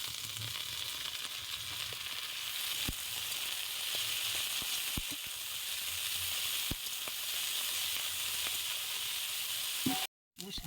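Ivy gourd leaves fry in hot oil in a pan with cumin, potato and chopped onion, giving a steady close sizzle with a few sharp clicks of stirring and a brief break near the end.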